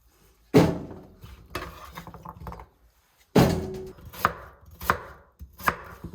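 Korean radish is cut into chunks with a kitchen knife: sharp, close chops land on a board at an irregular pace, two heavy strokes followed by a quicker run of lighter ones, without any talking.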